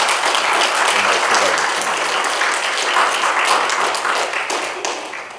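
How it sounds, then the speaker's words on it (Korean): Applause from a church congregation for a male vocal ensemble at a revival service, dense steady clapping throughout, tapering slightly at the end. "남성 중창팀들 한번 여러분 격려의 박수 한번 해주시기 바랍니다."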